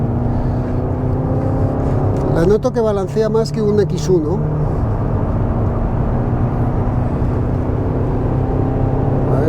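A Mercedes GLA 200d diesel engine pulls at full throttle while driving, giving a steady, droning hum with a constant road rumble beneath. Someone speaks briefly over it partway through.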